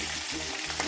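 Pond fish fry in a pan while an Assamese fish curry is being made. The sizzling and spitting oil is steady and close, a brief burst with no talk.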